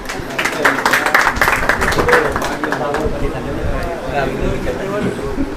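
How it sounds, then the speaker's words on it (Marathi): Enthusiastic applause breaks out from an audience at a quiz event in Nanded after a contestant answers correctly, a dense burst of clapping that stays loud for several seconds and then thins out. "जोरदार टाळ्या"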